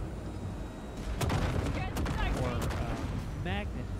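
Enemy gunfire in Cyberpunk 2077, a few sharp shots near the start and a brief burst later, mixed with game sounds and voices talking over it.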